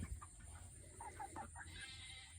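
Six barred rock chickens cluck during feeding on a farm, a few soft, short clucks in a steady run at moderate distance over a low background hum, with no talking.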